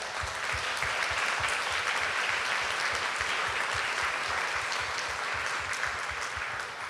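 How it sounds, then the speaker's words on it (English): A conference audience applauds a panel discussion with dense, steady clapping that stays loud and even throughout, with no talk over it. "Let's have a big round of applause for our panel."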